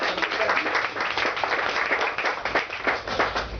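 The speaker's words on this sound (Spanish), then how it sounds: "vamos a darle un aplauso al hermano" Steady clapping from a church congregation welcoming a brother, a dense wash of many hands sustained evenly throughout without a break.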